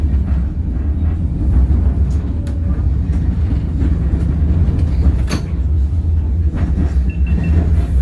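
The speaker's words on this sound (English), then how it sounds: "That's the tram." Steady low rumble of a tram rolling along rails in Auckland, New Zealand, with occasional metallic clicks and squeaks over a constant engine drone.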